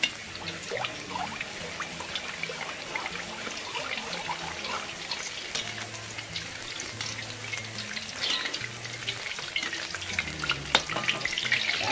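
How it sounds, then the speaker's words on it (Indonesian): Coconut oil heats in a frying pan, giving a soft, steady sizzle and crackle with a few light clinks, fairly quiet and uninterrupted. "sambil menunggu minyaknya panas"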